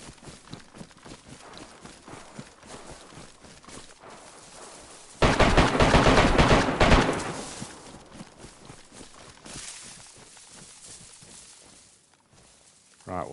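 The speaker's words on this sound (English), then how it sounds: "there's some shooting going on now" Gunfire in the survival game DayZ, a loud, dense burst of shooting that flares suddenly in the middle, with scattered quieter shots and movement noise before and after it.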